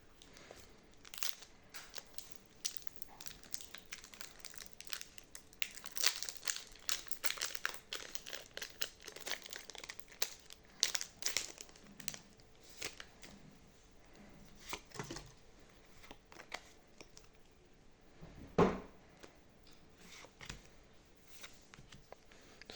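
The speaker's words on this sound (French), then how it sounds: "On va commencer par ouvrir le booster Forgelina." A Pokémon card booster pack wrapper is opened with repeated close crinkling, tearing and rustling of foil in scattered bursts over about twenty seconds, fairly quiet, with one sharper rip near the end.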